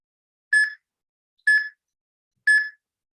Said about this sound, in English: You're going to hear another beep. It just means recovery.